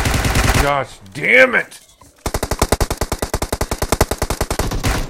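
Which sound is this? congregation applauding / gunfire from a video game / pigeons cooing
gunfire from a video game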